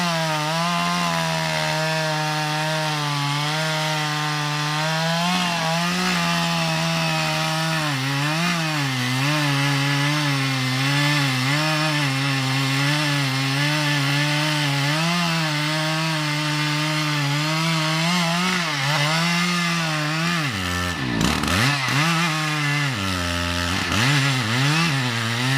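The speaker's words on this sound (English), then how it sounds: "When felling a tree with a chainsaw like the Husqvarna 395 XPG, it is important to use the correct technique" A Husqvarna 395 XPG chainsaw fells a very old tree, with a loud, continuous high-revving buzz whose pitch wavers as the chain bites into the wood and briefly dips near the end.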